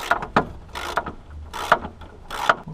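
A ratchet wrench loosens a nut on a 1980 VW Caribe while a worn L-type mount is being replaced, giving several close, loud bursts of rapid ratcheting clicks separated by brief pauses, with no speech.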